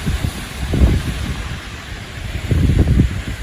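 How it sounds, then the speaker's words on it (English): Strong wind buffets the microphone on a New Hampshire mountain summit on the Appalachian Trail, producing low, rumbling gusts that swell and fade in uneven waves, with no voices. "It is very windy."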